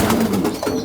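Young racing pigeons, a flock of about thirty spring-born birds, cooing close by in a loft, low soft burbling calls that run together without pause.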